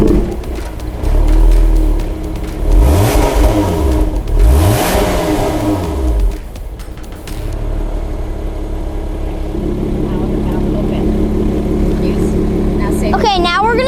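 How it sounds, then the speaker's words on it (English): Lotus Evora sports car engine starting and revving hard several times, loud sweeping rises and falls, then settling into a steady idle, with people talking throughout. "We're gonna start up the car and see how loud it is."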